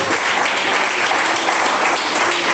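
A church congregation claps loudly and continuously at a steady, dense level throughout, with no break in the applause.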